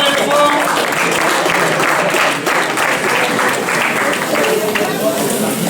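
A crowd applauds the competitors at a regional UFOLEP championship in Picardy, with continuous, dense clapping held at a loud level for the whole stretch.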